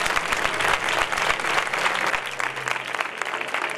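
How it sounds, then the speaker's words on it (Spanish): An audience at the coronation ceremony of the Facinas fair in 2014 breaks into dense, loud applause that fades gradually over a few seconds, with no speech. "Un aplauso para esta nueva dama."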